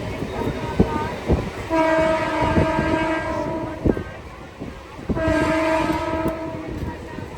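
A train at Ranaghat station sounds two long, loud horn blasts over the rumble and clatter of rail cars, with brief voices nearby.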